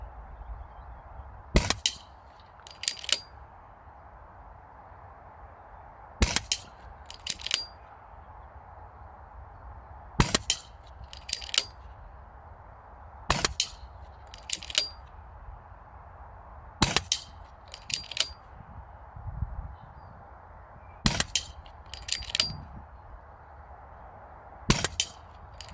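Air rifle pellets fired from a magazine at a target: a series of sharp, snappy shots spaced a few seconds apart, often in quick pairs with a metallic report, against a quiet background.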